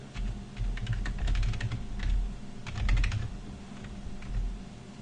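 Someone types code on a computer keyboard in quick irregular bursts of close clicking keystrokes, with short pauses between runs, over a low steady background hum and no talking.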